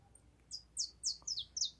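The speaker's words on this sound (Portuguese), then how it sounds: "Os machos são conhecidos por terem um canto melodioso, bastante variado, que pode incluir trinados, assobios," A saffron finch sings a short run of five or six quick, high chirps in an even rhythm, faint and alone against a quiet background.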